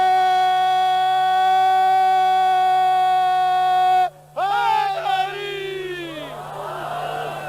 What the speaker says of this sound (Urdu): نعرے